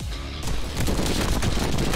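Rapid automatic gunfire in the game Madness: Project Nexus rattles in a loud, continuous burst of overlapping shots that builds after a brief lull at the start.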